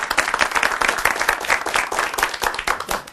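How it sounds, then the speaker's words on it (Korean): An audience applauds to welcome a Catholic University psychiatry professor and author onto a talk stage, with steady, dense clapping at close range throughout. "큰 박수로 맞아주시기 바랍니다"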